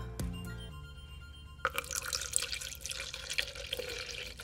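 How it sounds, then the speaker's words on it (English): Water poured from a pitcher into a cup sitting on a kitchen scale, starting after a few clinks and then a steady close splashing pour, with no talk. "And now let's pour in some water."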